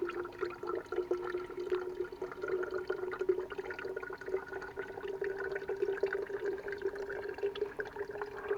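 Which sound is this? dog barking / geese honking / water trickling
water trickling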